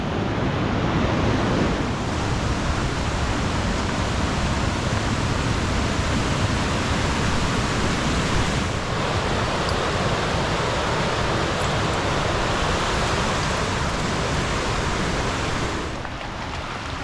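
A rushing mountain river along a Bair Canyon hiking trail in June carries fresh snowmelt, a loud, steady, unbroken roar that fills the whole stretch with no voices.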